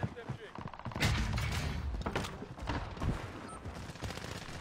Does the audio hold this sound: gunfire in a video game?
yes